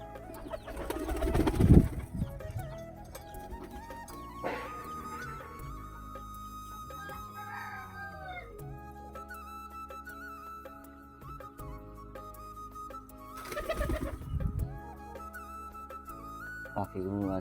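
Pigeons cooing at a loft with soft, low bursts, under a person talking and a backdrop of background music, with a couple of louder rustling moments.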